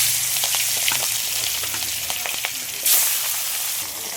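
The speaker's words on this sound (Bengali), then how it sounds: "তেল গরম হয়ে গেছে, এবার মাছগুলো সব এক এক করে ভেজে নেব" Fish sizzles in hot mustard oil, a dense, steady crackle with scattered pops and one louder spurt of spitting oil partway through.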